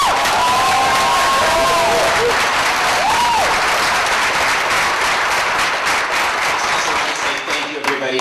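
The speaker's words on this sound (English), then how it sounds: "everyone give her a round of applause." An audience at the Indie Soap Awards ceremony bursts into loud, sustained applause with a few whistles and cheers near the start, easing off slightly toward the end.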